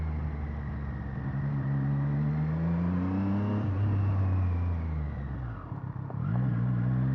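The engine of a 2025 Triumph Street Triple 765 R motorcycle is revved hard, its pitch climbing and falling through the rev range. A close, steady mechanical drone rises and falls, briefly dips near the end, then picks up again, with no talking.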